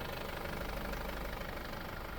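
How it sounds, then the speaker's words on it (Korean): A Chevrolet Captiva engine idles after an alternator repair, a steady, close mechanical hum and rumble with no voices. "장착하고 시동 걸어 보면은 소음 말끔하게 사라지고 충전도"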